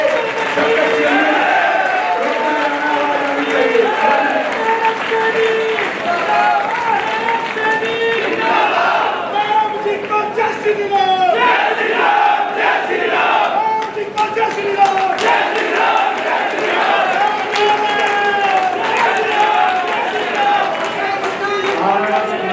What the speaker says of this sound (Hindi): जोरदार तालियों से जब तक तालियां नहीं मिलेंगे तब तक